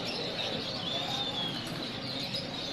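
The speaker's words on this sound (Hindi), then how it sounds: "कबूतर है" Soft pigeon coos over steady outdoor background noise, with no distinct loud notes.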